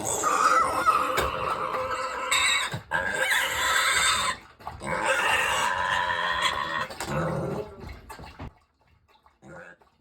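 An excited, hungry baby mini pig squeals loudly and close during early sit training, with long shrill bursts broken by short pauses before it falls quiet near the end.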